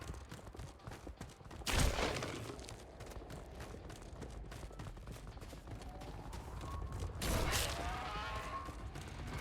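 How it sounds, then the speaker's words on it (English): Explosions in the video game Starfield, two loud broadband bursts a few seconds apart over a constant rumbling game background, with whistling tones trailing after the second blast. "Oh my god, where are all these explosions coming from?"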